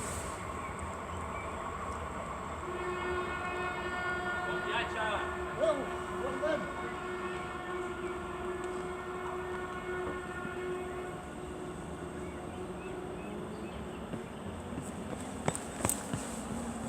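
A Talgo III train passes a commuter train at the Ribes de Freser station on the line toward Puigcerdà, with steady rolling rail noise, sustained tonal horn or brake notes, and a few sharp clanks near the end.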